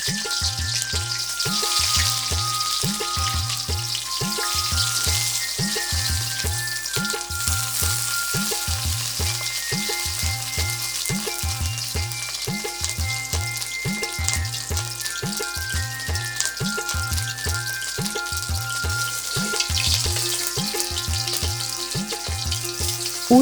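Fish fritters wrapped in gourd leaves fry in hot oil, giving a steady, dense sizzle and crackle throughout, with a regular low thumping rhythm running underneath.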